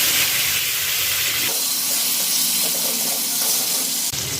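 Tomatoes dropped into hot oil with cumin seeds for a banana flower and prawn dish, a loud, close, continuous hissing sizzle that shifts in tone partway through and keeps going steadily.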